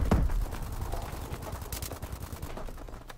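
Gunfire in the Call of Duty Advanced Warfare video game, a rapid burst of automatic shots followed by scattered single cracks, close and fairly loud, with no talk over it.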